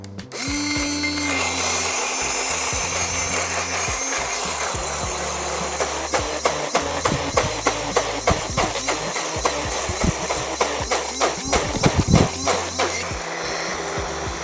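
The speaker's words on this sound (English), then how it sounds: "I might just go ahead and blend it one more time just to make sure everything's blended" Cokunst portable blender whirring steadily as it blends a drink, a constant motor drone with a run of rhythmic knocks and rattles of contents hitting the jar through the middle and later part, close and loud.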